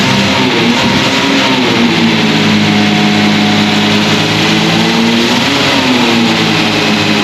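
A restored 1974 12-cylinder car engine revs loudly and smoothly, holding a steady high idle with rising and falling pitch swells near the end, close and continuous with no talking.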